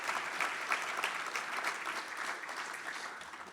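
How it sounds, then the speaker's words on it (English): An audience at a charity fundraiser breakfast applauds award recipients, sustained even clapping from a large room that stays strong throughout. "give them a round of applause."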